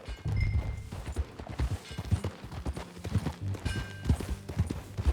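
Horse hooves clip-clop in a steady trotting rhythm during a ride in Red Dead Redemption 2, close and fairly loud over a low rumbling game background, with no talk.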